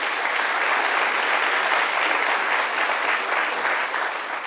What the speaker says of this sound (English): if you're going to clap for that, you're going to be clapping the whole time